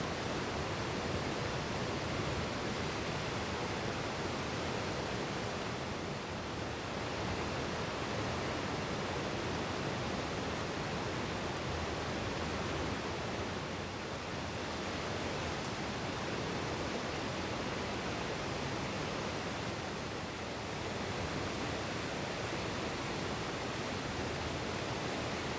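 A waterfall in wintry Canada roars continuously, a dense, even rush of falling water that fills the whole stretch with only slight swells in level and no voices.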